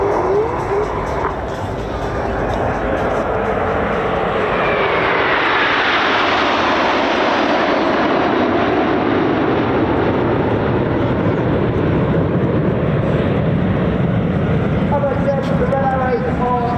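Red Arrows jets flying a display manoeuvre at an air show, a loud sustained roar of jet engines that swells and sweeps across the sky, steady throughout with a commentator talking over it.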